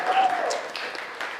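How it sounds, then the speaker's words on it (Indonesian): Students in a high school classroom applaud a classmate with a steady, dense patter of clapping that lasts the whole moment at moderate loudness. "tepuk tangan untuk Keisha"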